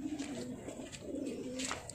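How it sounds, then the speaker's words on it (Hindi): Old-breed domestic pigeons, one about fifteen years old, coo softly and repeatedly at close range, a low rolling burble that pulses steadily with no talk over it. "और ये पुरानी चाल के कबूतर हैं दोस्तों"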